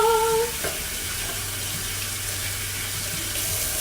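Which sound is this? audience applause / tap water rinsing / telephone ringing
tap water rinsing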